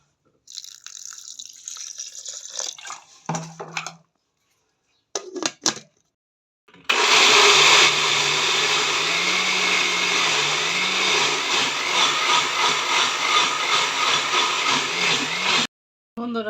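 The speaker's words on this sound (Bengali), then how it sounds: "সয়ালের ডালটা যে আমি বেটা নিলাম মিক্সিতে সেটা হয়ে গেছে" A mixer grinder whirs loudly and steadily for several seconds as it blends soaked lentils with a little water into dosa batter, preceded by short bursts of pouring water and clattering, all close by.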